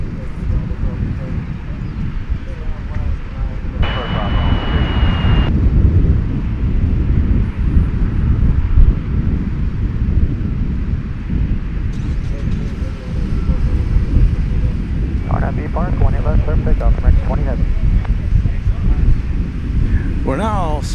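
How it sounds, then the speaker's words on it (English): An airliner prepares to depart Dallas/Fort Worth Airport for London Heathrow, heard as a broad, steady jet rumble from outdoors, mixed with wind buffeting and some faint voices. "This is flight 20 getting ready to depart to London Heathrow."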